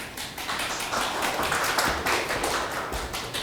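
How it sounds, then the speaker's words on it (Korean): A seminar audience at a law firm's bio-startup event clapping to welcome the host lawyer: a modest, uneven patter of hands, moderately close and fairly quiet, with no talk. "큰 박수 부탁드립니다"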